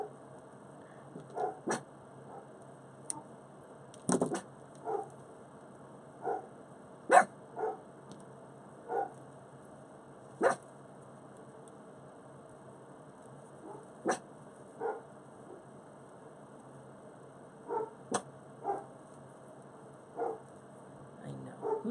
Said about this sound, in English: You hear that bark?